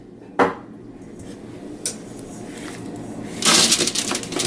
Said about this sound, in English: Then we're going to put the potatoes on it.